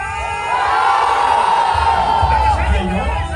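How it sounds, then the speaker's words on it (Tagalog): A large outdoor crowd cheers and shouts loudly at a civic street parade in Pasig, a sustained dense roar with whoops and yells rising and falling throughout. "Action Line sa malakas na hiyawan"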